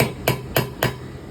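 Three sharp, evenly spaced hammer blows strike around a stripped M3 threaded hole in aluminium, each a crisp metallic knock with a short decay, close and clear with no talking.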